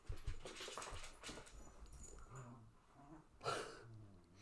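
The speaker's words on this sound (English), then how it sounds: "my dogs are going to be nice and noisy tonight." Dogs whimpering and snuffling in the room, with faint whines and breathy snorts, one louder yelp-like burst partway through, over a low background.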